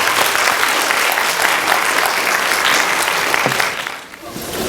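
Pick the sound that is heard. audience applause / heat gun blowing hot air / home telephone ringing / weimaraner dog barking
audience applause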